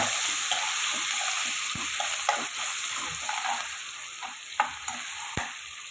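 Onions browned in a pan with tomatoes added crackle and sizzle loudly up close, while a utensil stirs with scattered scraping clicks and knocks throughout.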